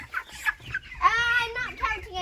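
Chickens on a farm cluck and squawk in short bursts close by during chores, with children's voices and playful shouts mixed in.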